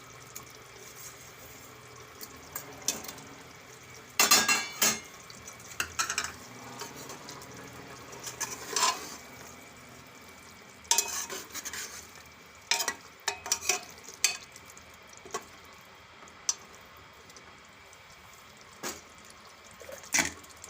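Dhokli dumplings drop into a guvar curry cooking in a pan, making soft sizzling and wet stirring with scattered clinks of a utensil against the pan over a low simmer.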